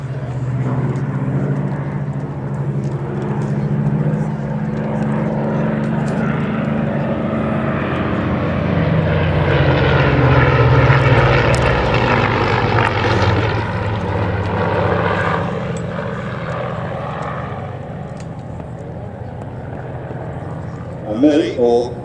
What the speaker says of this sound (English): I'm flying a Hurricane, now I've got to land it.